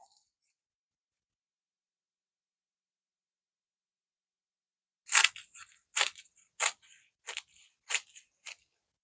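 Scissors snipping through the edge of patterned textile for a collage portrait, six crisp close cuts in an uneven rhythm after a stretch of silence.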